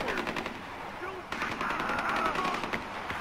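Gunfire in the video game Far Cry 4, a dense burst of rapid automatic shots over a busy game soundscape, with a short lull and then more sustained shooting.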